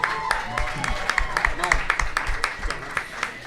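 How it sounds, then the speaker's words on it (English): A live show audience applauds for a guest from Children's Hospital, with scattered sharp claps running steadily through the clip while someone speaks over them. "everybody give Lindsay a round of applause from Children's Hospital."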